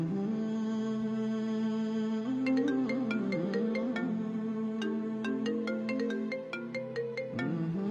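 A melodic mobile phone ringtone plays steadily with repeating tonal phrases and sharp high notes throughout, as a call is placed in an Ethiopian drama scene; no talking is heard.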